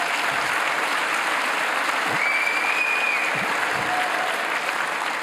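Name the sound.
applause from an audience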